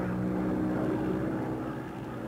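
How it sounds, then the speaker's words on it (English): A WWII Grumman Avenger torpedo bomber, damaged and missing its left wheel, comes in to land on an aircraft carrier in the Pacific; a steady, dense propeller-engine drone fills the scene, loud and unbroken. "Here, one of our aircraft, an Avenger, returns with a missing left wheel and makes a safe landing."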